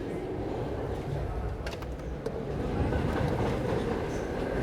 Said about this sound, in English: That's the Q train right there.